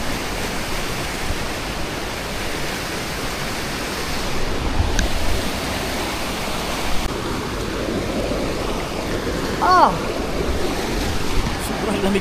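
Strong river current rushing, a loud continuous broadband roar of fast-flowing cold water close by, steady throughout with slight surges.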